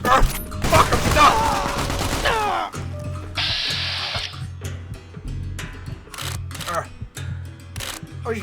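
MP5 gunfire in Fallout New Vegas, a rapid burst of automatic shots followed by scattered single cracks and clanks, loud and close, with short exclamations from a player mixed in.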